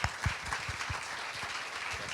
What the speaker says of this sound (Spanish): Así que un aplauso para Carlos